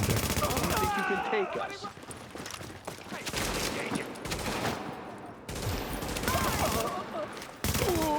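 Dense, sustained automatic gunfire in The Division 2 video game, loud bursts of rapid shots filling the scene, with voices talking over the shooting.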